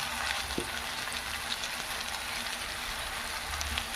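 Diced vegetables fry with chili powder in a pan for vegetable lemon rice, a low, even sizzle with faint scraping, quiet and uninterrupted.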